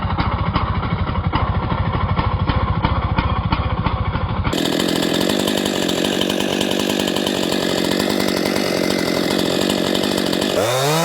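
A Stihl MS-261 chainsaw runs loud and close, its engine holding a steady, rough high rev throughout with a brief shift midway.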